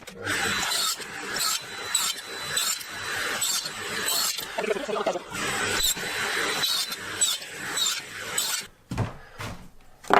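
A small saw rasps steadily through wood, cutting little table-top buttons along marked lines. Near, continuous strokes with brief pauses run throughout, and no one speaks.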